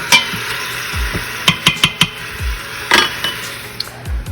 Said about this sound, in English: You want to saute it and make sure it's nice and brown.